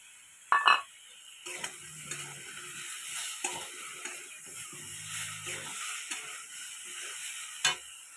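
Ground spice paste hitting a hot pan for a mustard curry with plantain: a sharp clatter, then a low steady sizzle with intermittent stirring scrapes and a final clink, quiet and close.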